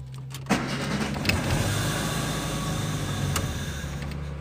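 A Fiat Uno engine with a temperature sensor fault cranks and catches, then settles into a steady idle rumble that continues to the end.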